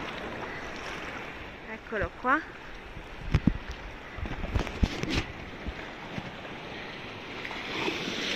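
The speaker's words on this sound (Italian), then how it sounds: "Onde alte." High sea waves break and wash on a winter shore in a steady broadband roar with gusty wind noise on the microphone, and someone speaks briefly over it.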